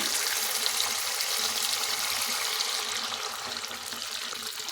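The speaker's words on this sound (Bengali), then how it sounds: "এখন এর মধ্যে দেবো 3টে বড় সাইজের টমেটোর পেস্ট।" Tomato paste going into a frying spice masala for matar paneer gives a steady, close sizzle and bubbling hiss with no talk over it, easing slightly toward the end.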